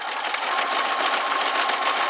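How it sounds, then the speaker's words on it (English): A sewing machine runs a tight, closely spaced zigzag stitch, almost like embroidery, in a steady continuous rapid whir, loud and close with no voices. "I'm gonna come in with a zigzag stitch, and I've adjusted the tension so that it's really close together, like embroidery almost."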